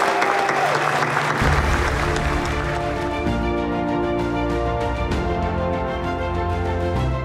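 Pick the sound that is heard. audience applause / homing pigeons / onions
audience applause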